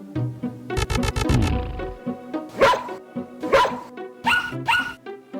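A dog barks several times close by, a quick run of sharp barks followed by a few separate louder barks and yips.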